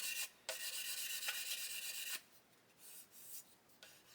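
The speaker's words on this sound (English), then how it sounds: "we may get away with just sanding that because it may have just been a raised area" Fine sandpaper rubs back and forth over a raised spot on a plastic 1/72 Airfix Lancaster B.III Dambuster model kit, quiet rasping strokes in short bursts with brief pauses.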